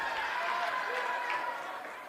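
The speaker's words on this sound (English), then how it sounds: "a little bit of a sarcastic cheer from the crowd" A crowd at a girls basketball game gives a sarcastic cheer, a broad steady roar of voices and some clapping that holds throughout and fades slightly at the end.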